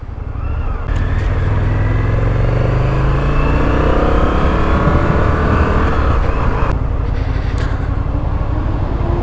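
An Indian FTR 1200S motorcycle roars steadily while riding, its engine note rising through the gears with wind rush, loud and continuous, with a brief dip at a shift before pulling on.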